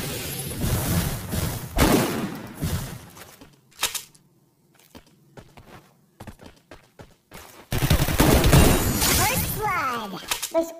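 Gunfire in a custom 1v1 video game match, sharp close shots in bursts separated by quiet stretches, with a loud cluster of impacts at the end and a voice talking between them.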